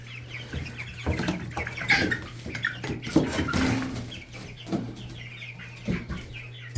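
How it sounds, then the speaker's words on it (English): Several roosters cluck close by in a warm coop, with bursts of busy calling and scuffling over a steady fan hum. "I think those are roosters doing that."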